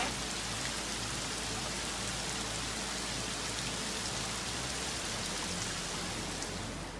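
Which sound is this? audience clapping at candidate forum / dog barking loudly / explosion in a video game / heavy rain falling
heavy rain falling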